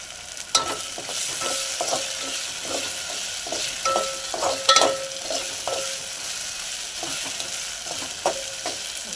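Grated coconut roasts in hot oil for a mutton curry, with a steady close sizzle and frying hiss and scattered scraping stirs of the spoon across the pan.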